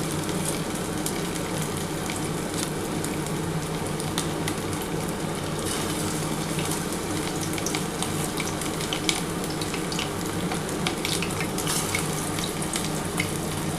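Mutton keema pakoras fry steadily in hot oil, a continuous even sizzle with light crackles running throughout, close and moderately loud with no talking.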